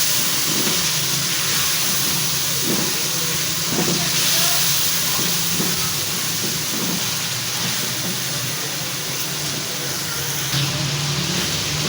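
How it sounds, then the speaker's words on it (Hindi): Chicken pieces frying with onions in a pan for a restaurant-style chicken handi, a steady loud sizzling hiss with faint stirring scrapes running throughout. "अब शामिल कर देते हैं इसमें चिकन को भी भून लेते हैं।"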